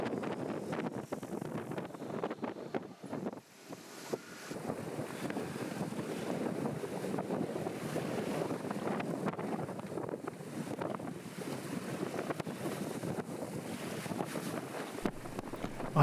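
A sailboat sails single-handed in a Force 6 wind near the Eddystone Lighthouse, with steady broadband wind buffeting and rushing water sounding close and loud throughout, continuous with no voices.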